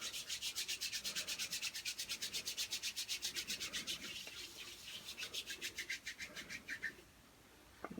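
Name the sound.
rubbing hands with hand sanitizer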